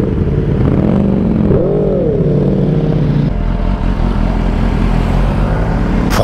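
A 2023 BMW M1000R motorcycle engine running loud and close, a steady rumbling drone with rising and falling revs partway through and a low mechanical whir underneath.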